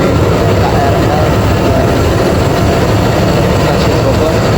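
A KRL commuter train rumbles loudly and steadily at Bogor station in Indonesia, a close, continuous low mechanical roar with some faint background voices.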